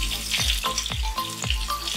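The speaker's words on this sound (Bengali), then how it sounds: "ফোড়নটা খুব ভালোভাবে ভাজা হয়ে গেছে, এবার এর মধ্যে দিয়ে দিচ্ছি দুটো কাঁচা লঙ্কা" Green chillies dropped into a hot oil tempering for pointed gourd in poppy seed paste, giving a loud, steady sizzle with a few sharp bursts of spitting and crackling, close up and with no voices.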